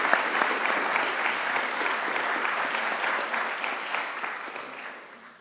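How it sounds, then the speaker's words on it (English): An awards ceremony audience claps for an honoree, a full, steady round of applause that slowly thins and fades toward the end. "Give her a round of applause."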